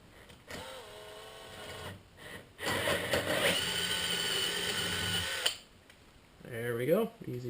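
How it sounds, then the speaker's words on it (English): A cordless drill bores into a carburetor cap clamped in a vise, a loud, close whine that rises as the bit bites, stops, then spins up again in shorter bursts. "I got my cordless drill bit, and put the cap in a vise"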